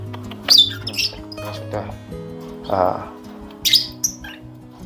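Lovebird chicks around 36 days old call from inside a nest box, giving short raspy squawks and chirps in a few bursts while someone speaks nearby.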